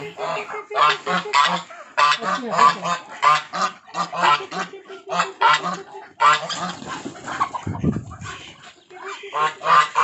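Ducks on a farm honking and quacking in rapid, repeated bursts as they are caught, close and loud, with a brief rustling scuffle partway through.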